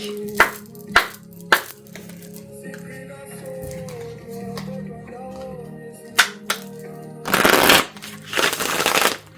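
Soul Symphony card deck being shuffled: soft papery riffles and sharp card taps, several distinct snaps early on, then a longer burst of fluttering cards, quiet and close over a low background hum.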